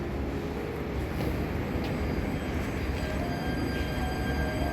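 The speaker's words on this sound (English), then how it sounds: "The old trains have given way to newer, sleeker, electric, at least in this case." A modern electric train in Holland rolls past in a continuous loud rush of wheels and rail noise, with faint high tonal whines threading through, steady from start to finish with no talking.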